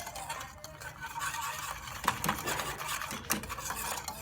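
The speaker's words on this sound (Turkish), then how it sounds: "Durmadan karıştırıyorsunuz arkadaşlar." A spoon scrapes and swirls through pudding in a pot in continuous stirring strokes, soft and close, with a few louder scraping knocks against the pot's sides and no talking.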